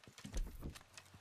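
Horse hooves clip-clop softly at a walk in Red Dead Redemption 2, a few faint, uneven thuds at close range.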